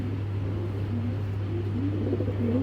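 Black racer pigeons of the python line coo softly in repeated low murmurs over a steady hum and background rumble, fairly close with no talking.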